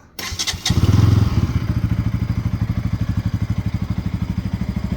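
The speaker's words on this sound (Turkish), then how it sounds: "Kontağımızı açalım. Marşa basalım." A Bajaj Pulsar NS200 motorcycle engine cranks with a short thump and whir, catches loudly, and settles into a close, even, rapid idle pulse that carries on to the end.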